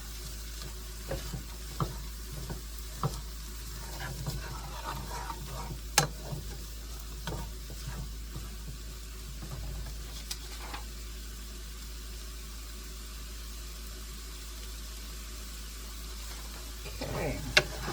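Egg roll filling with green onions sizzles in a hot frying pan while a utensil stirs and scrapes through it, with steady frying hiss and scattered clicks and knocks from the stirring throughout; no one speaks.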